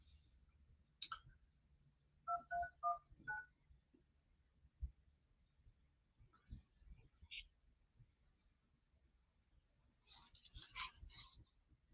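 A phone keypad sends a quick sequence of DTMF dialing tones while calling a real estate agent, the beeps arriving in short clustered bursts with small clicks between them in an otherwise quiet room.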